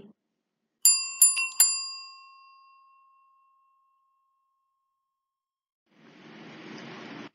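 A notification bell chimes three times in quick succession, each bright ding ringing clearly and fading over a couple of seconds, followed by silence and then a soft burst of noise.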